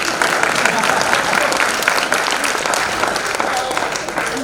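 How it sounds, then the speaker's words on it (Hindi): Scattered applause from a small group of two to four people at a Hindi poetry gathering, fairly steady clapping with a voice talking over it. "2-4 लोग तालियां बजा रहे"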